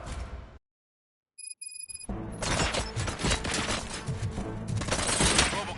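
Robots open fire in the Robocop: Rogue City video game: after a short silence and a few electronic beeps, a dense, continuous volley of rapid gunshots bursts out and keeps going loudly.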